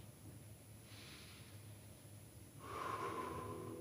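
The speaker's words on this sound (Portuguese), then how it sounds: "Focar na respiração." A person breathes deeply during a guided breathing exercise: a soft, airy breath comes first, then a louder, longer nasal inhale close to the microphone, quiet overall and without speech.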